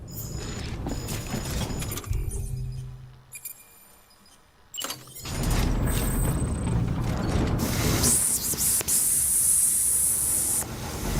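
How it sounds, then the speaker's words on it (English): A spray can hisses in long, steady bursts as a container is sprayed in Death Stranding, broken up by short mechanical clicks and a quieter lull partway through. "Okay, let's spray our container first."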